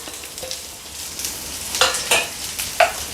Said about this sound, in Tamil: வெங்காயம் நல்லா வதக்கிக்கோங்க